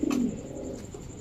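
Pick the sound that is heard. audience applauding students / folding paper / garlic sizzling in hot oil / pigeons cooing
pigeons cooing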